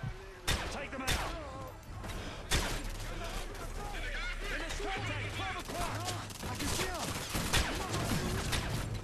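Gunfire in Call of Duty: Modern Warfare 3, a few sharp shots early on and then sustained crackling fire that sits under a busy battle mix with shouted voices, moderately loud throughout.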